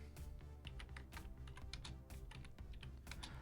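Code is typed on a computer keyboard in a fast, continuous run of crisp key clicks, close and fairly quiet.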